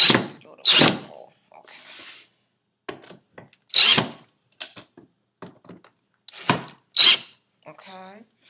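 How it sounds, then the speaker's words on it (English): An electric drill whirs through wood in several short bursts separated by pauses, with a few clunks and brief handling sounds between them. "I'm gonna drill this a little bit more."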